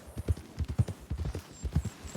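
Horse hooves clip-clop in a quick, steady trot through a riverbed in the Red Dead Redemption 2 video game, close and fairly loud, with no talking.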